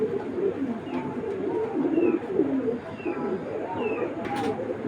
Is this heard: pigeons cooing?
yes